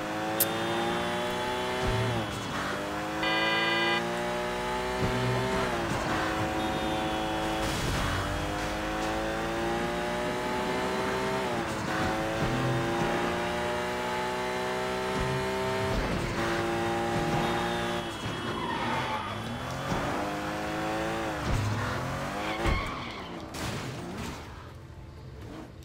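Car engine revving and shifting gears continuously in the open-world game Sleeping Dogs, with rising and falling pitch sweeps, brief tire skids and crashes, loud and close throughout.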